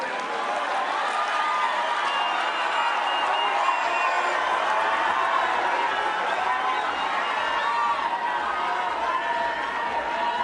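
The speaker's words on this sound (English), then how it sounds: "Another round of applause, please, for the former Prime Minister, Right Honorable Raila Odinga." Large conference audience applauding and cheering for former Prime Minister Raila Odinga after his devolution conference speech, a steady dense roar of clapping, whoops and crowd voices lasting throughout.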